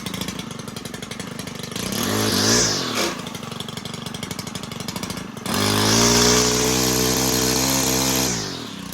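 A STIHL KM110R engine runs after a carburetor replacement, a loud, close two-stroke buzz that revs up twice and drops back to a rough idle between revs.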